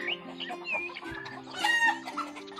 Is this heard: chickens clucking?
yes